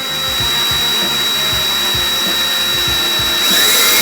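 A power drill whirs steadily and close up, with rhythmic pulsing as it bites through metal sign material, rising slightly in pitch near the end.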